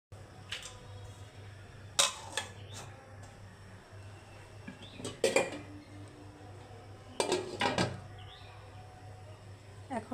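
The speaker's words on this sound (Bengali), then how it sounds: "একটা ঢাকনা দিয়ে দিব।" A lid set on a pan for steaming pudding, heard as a few light metallic clinks and clatters spread out in clusters, close and fairly quiet in a calm kitchen.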